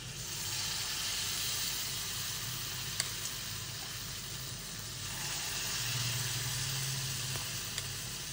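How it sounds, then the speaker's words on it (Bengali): Ripe jackfruit fritters deep frying in hot oil, giving a steady, close sizzle that holds evenly throughout with a few small pops, and no voices. "এখন আমরা বড়াগুলোকে ভাজবো, ডিপ ফ্রাই করব।"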